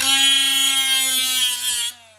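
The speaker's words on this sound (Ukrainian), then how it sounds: "беремо болгарку, іскра должна бути мінімальна" An angle grinder cuts into metal to test the spark, a loud, close, high-pitched tonal whine that holds steadily before dropping away abruptly at the end.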